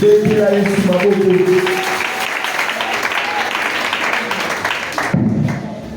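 A church congregation at a Sunday thanksgiving service applauds for Jesus with sustained, dense clapping and voices mixed in, fading near the end as a single voice carries on.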